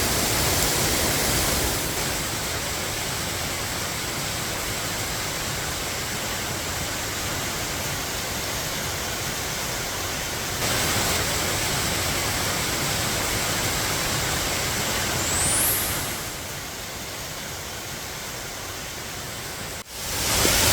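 Daehae Waterfall on Geumosan mountain in Gumi roars as a loud, steady broadband rush of falling water, close and continuous throughout, swollen after heavy rain.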